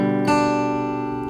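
A single strummed guitar chord, an inversion of G, rings out clearly and sustains, slowly fading, played alone with no voices.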